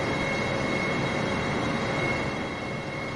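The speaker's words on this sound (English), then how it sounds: "if that airplane's too loud in your ears" An airplane in Microsoft Flight Simulator gives off a constant, dense engine drone with a steady tonal hum, holding even throughout with no voices.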